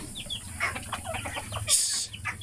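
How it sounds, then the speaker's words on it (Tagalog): Several chickens cluck and chatter nearby in short overlapping calls, over a low background hum, with a brief higher squawk near the end. "ang dami ng manok"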